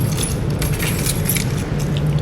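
Keys jangling loudly and close up for a couple of seconds, a continuous metallic clinking and rattling with no voices, as a café barista in Malaysia handles the shop keys.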